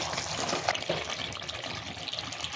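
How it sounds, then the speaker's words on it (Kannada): Water is poured into frying masala in a pan while making egg sambar, a continuous close splashing and gushing pour of moderate loudness. "ಇವಾಗ ನಮಗೆ ಎಷ್ಟು ಬೇಕೋ ಅಷ್ಟು ನೀರು ಹಾಕೋಬೇಕು."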